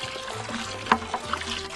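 Pail of water where wooden guitar boards are being set to soak: soft splashing, trickling and sloshing, with a brief sharp splash near the middle and a few smaller dribbles, close and moderately quiet, with no voices.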